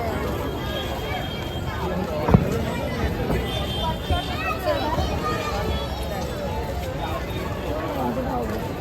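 Dense crowd chatter fills the air at Wadale lake on a Diwali evening, a steady hubbub of many voices with occasional footsteps and a single sharp knock, heard from within the crowd.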